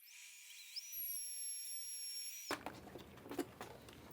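A router on a router table with dust collection runs with a loud, steady high whine, then switches off halfway, leaving quiet scuffs and taps from the room.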